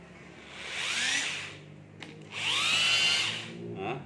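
A used power drill in normal drilling mode spins up twice with a rising whirring whine, loud and near, followed by a brief third spin at the end.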